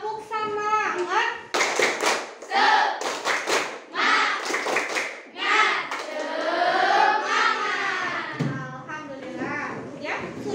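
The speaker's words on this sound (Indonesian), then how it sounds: "Tepuk semangat." Schoolchildren standing in a classroom do a rhythmic spirit clap, sharp hand claps in quick patterned bursts mixed with loud chanting voices and an adult leading over the top.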